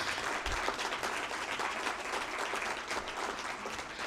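A formal conclave audience gives a steady, dense round of applause during a memento presentation, continuous clapping from many hands at even loudness throughout.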